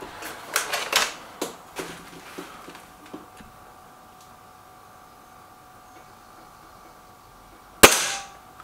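Gamo Whisper Sting air rifle firing in a shooting competition, heard as a cluster of sharp clicks and snaps near the start, then near quiet, and one loud, crisp shot late on.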